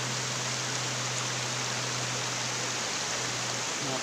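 Tanay Falls in Rizal gives off a constant, even rush of falling water. The dense roar holds steady for the whole stretch with no voices.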